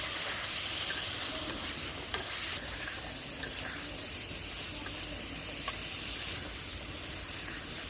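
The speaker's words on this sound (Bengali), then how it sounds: "এখন দিয়ে দেবো 1 চামচ লবণ, 1 চামচ হলুদের গুঁড়া, 1 চামচ মরিচের গুঁড়া দিয়ে ভালোভাবে কষিয়ে" Salt, turmeric and chili powder sautéing in a pan with stirring, giving a steady bright sizzle and hiss with occasional scraping clicks of the spoon, close up and without talk.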